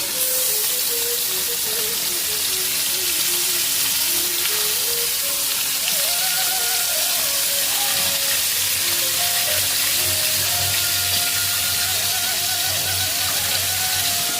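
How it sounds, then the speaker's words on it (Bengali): Fish fries in hot oil, a loud, dense and continuous sizzle with crackling spatter throughout, close and unbroken, with a faint tonal hum underneath. "মাছটা সুন্দর করে আমি ভাজতে নেবো আগে"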